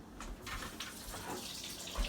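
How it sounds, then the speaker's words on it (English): Filtered water runs in a steady trickle into a bowl of sourdough starter nearby, a continuous splashing pour with no talk. "now we're going to just add a little bit of water"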